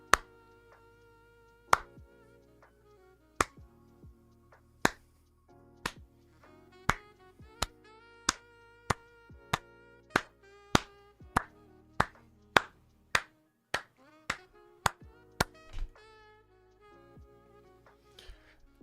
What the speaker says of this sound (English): let's start a slow clap